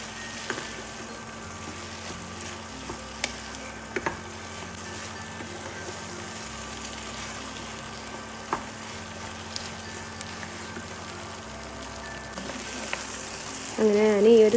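Beef roast sizzling steadily in a pan while being stirred until dry, a constant close frying hiss with occasional light scrapes and a low background hum, a brief louder clatter at the very end.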